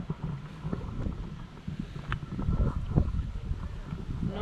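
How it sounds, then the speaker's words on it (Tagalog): A cold breeze gusts into an outdoor microphone in New York City, with low, uneven buffeting rumbles that swell and ease throughout. "Malamig. Ang simoy ng hangin."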